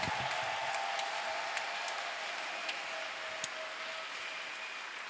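A church congregation acclaims and applauds Jesus, producing a steady wash of clapping from a crowd, even and sustained, with faint voices mixed in.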